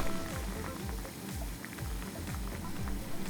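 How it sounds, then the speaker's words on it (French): Rolling, bubbling water at a vigorous boil in a large pot, a continuous churning burble with low, rhythmic surges. "Dès que l'eau bout, on y dépose nos nœuds de tofu."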